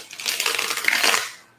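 A brand-new, untouched deck of tarot cards being shuffled for the first time, giving a brief, crisp riffling flutter of cards that rises and then trails off into quiet, with no speech.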